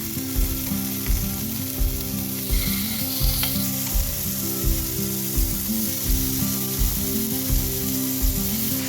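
Chicken pieces dry-fried on high flame for butter chicken: a steady close sizzle with regular rhythmic scraping or stirring thumps about twice a second, and no talking.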